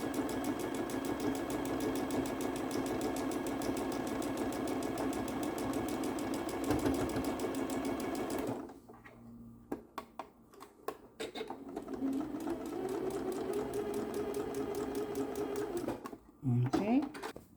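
Sewing machine chain-piecing quilt blocks for a Drunkard's Path quilt, running in a steady close whir for about eight seconds, then stopping and restarting in shorter bursts.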